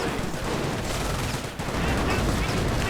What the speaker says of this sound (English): PA rounds and machine gun fire pelting the building, clearing out the MG42 team